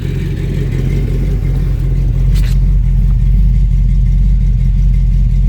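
A 1994 GMC Sonoma with a swapped-in V8 and a mild cam idles after a cold start, a loud, close, steady low rumble with a slight lope, running alone with no one speaking.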